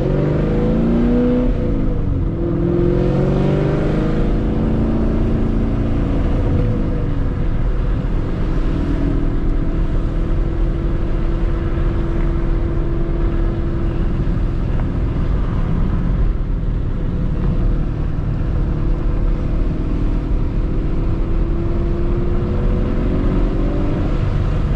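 A Krypton Green Chevrolet Camaro pulls away and accelerates onto the street, its engine droning steadily and rising in pitch, loud and close throughout with no talk.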